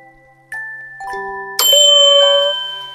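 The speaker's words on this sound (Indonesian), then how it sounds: "Suara lonceng bergema nyaring membuat semua hewan di dekatnya terlonjak kaget." A few bright bell tones ring out in succession, the last one loud and sustained, shimmering as it slowly fades.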